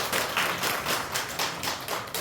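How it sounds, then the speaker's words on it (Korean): Korean church congregation giving a round of blessing applause during a worship service, close, dense clapping with a light rhythmic pulse over about two seconds. "우리 다 같이 축복의 박수를 한번"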